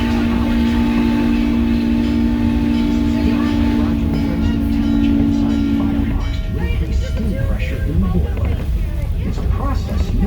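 N&W 611 steam locomotive rolling on rails at Strasburg and Paradise, Pennsylvania: a loud, constant rumble of the train throughout, with a sustained whistle-like tone holding for the first six seconds before the clatter takes over.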